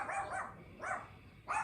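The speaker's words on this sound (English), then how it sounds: "And with the dog saying hi" A dog barks three times in short, fairly faint yips spaced across the moment, with quiet room tone between barks and no talking.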